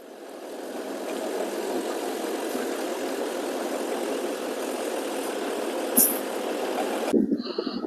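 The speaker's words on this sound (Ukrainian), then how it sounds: "Тракторець у нас трошки нагрівається," A Scout TB-904 C tractor engine, slightly warming up, idles steadily and closely with a low, even chugging, a brief clank partway through and a louder shift at the very end.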